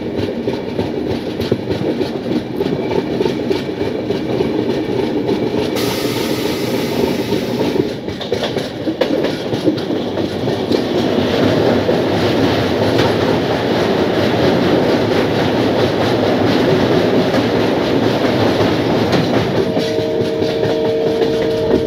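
Saraighat Express on the Howrah to Guwahati run, rolling steadily with a continuous loud rumble and rattle of carriages and wheels on track, no voices, a brief high whine near the end.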